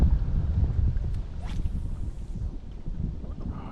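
Strong wind gusts over a lake buffet the microphone of a fishing boat on the water, producing a continuous loud, rumbling roar with uneven surges and no clear voices.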